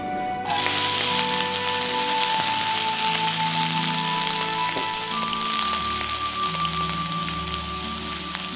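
Chopped scallion and ginger hit hot cooking oil in a flat pan, bursting into a loud, steady crackling sizzle that starts abruptly and holds dense and close for several seconds.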